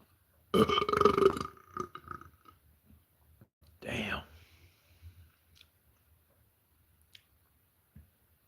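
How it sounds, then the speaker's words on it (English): A man eating Burger King lets out a loud, drawn-out burp. A second, shorter burp follows a few seconds later, with faint chewing and mouth sounds in between. "I'm burping again"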